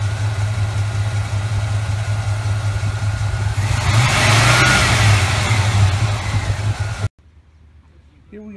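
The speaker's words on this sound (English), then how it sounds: "Very solid engine. Runs and drives excellent." A 1978 Chevy Cheyenne K20 Camper Special three-quarter-ton truck engine idles with a low, steady rumble, then revs up and settles back before cutting off abruptly, followed by a brief voice.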